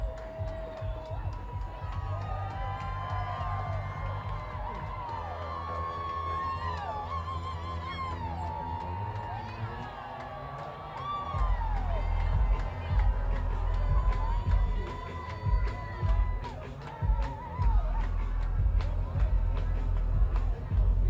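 Crowd at the Tennessee Vols baseball championship parade downtown, a steady roar of cheering and whoops with music thumping underneath, swelling louder in the second half while people talk close by.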